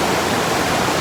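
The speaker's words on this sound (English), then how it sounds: "rushing river that goes into a nice reservoir." A rushing river pours into Rampart Reservoir in the Colorado mountains, making a steady, loud, close wash of water with no break or voices.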